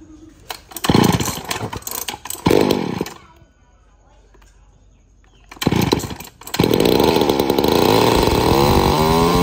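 A mini chainsaw with a roughly 30 cm bar is pull-started in a loud burst of sputtering cranks, drops to a brief lull, then catches and runs with a steady, close, buzzing roar while people talk nearby.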